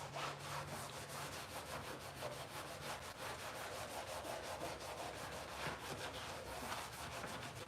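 A Scotch-Brite pad and soapy water scrub twenty years of grime from a Mini Cooper in quick, even back-and-forth strokes, a soft, steady rasping that repeats without letting up.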